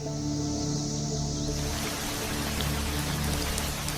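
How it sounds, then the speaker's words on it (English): Steady rain patters and drums on leaves in a dense Central American rainforest, a continuous close wash of drops that thickens partway through, with no voices. "the drumming of rain on leaves"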